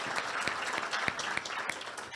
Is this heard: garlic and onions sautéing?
no